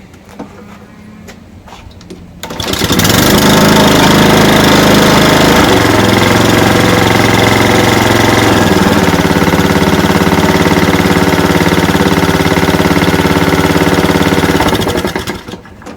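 A Honda 160cc carbureted lawn mower engine catches after a brief pull and settles into a loud, steady, close running drone that carries on for several seconds before cutting off near the end.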